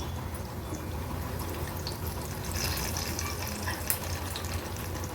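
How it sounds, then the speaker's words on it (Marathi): Mustard and cumin seeds crackle in hot oil along with curry leaves, a soft, continuous sizzle with a few faint pops, heard close up and without talk. "राई जिरं थोडं तडतडलं का आपण हिंग घालणार आहोत।"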